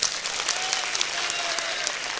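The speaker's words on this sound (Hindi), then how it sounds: "एक बार ताली बजाओ इनके लिए।" Dense, steady applause from an audience at a religious discourse gathering, loud and continuous for the whole moment, with no speech over it.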